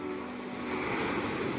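Big ocean waves wash continuously at the shore near a fishing boat, a steady broadband surf roar with wind noise.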